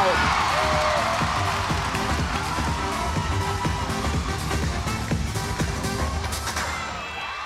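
A large arena crowd cheers loudly for gymnast Kyla Ross's routine, a sustained roar of cheering and clapping that fades slightly toward the end, with a commentator talking over it.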